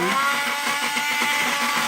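An immersion blender whirs with a continuous high-pitched motor drone, slightly wavering, close by and fairly loud for its brief length.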